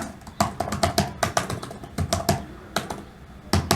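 Fingers tapping out Python code on a computer keyboard, a close, uneven burst of crisp keystrokes in quick clusters with short gaps, no voices.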